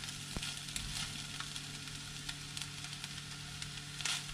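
Chili is tossed into a pan of mie goreng with Christmas leftovers, and a steady, fairly quiet sizzle of frying carries on with a few small crackles and stirring taps, with no talking.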